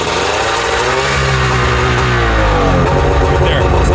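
A 2002 Arctic Cat Z370 snowmobile's two-stroke engine revving under throttle with a throttle safety switch fault, a loud, close, buzzing roar that swells and holds steady.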